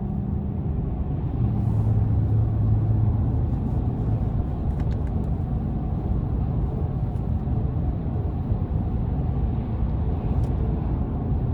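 Steady low road rumble and engine drone from a 2024 GMC Sierra 1500 Pro X31 pickup with a 5.3-litre V8, cruising at an even pace heard from inside the cab, with no talking.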